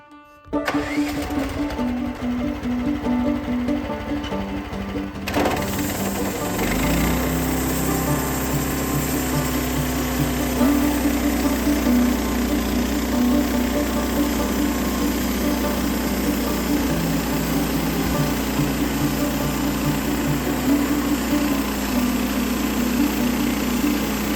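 A sawmill powered by a small engine starts up and runs steadily as it begins cutting through a log clamped in place, a loud continuous engine drone alone with no talk.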